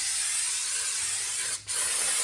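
Cleaner hisses steadily from a spray can onto the back of a brake rotor, a close continuous spray broken by one brief pause near the end before resuming.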